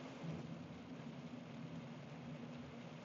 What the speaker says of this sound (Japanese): 雨すぎる。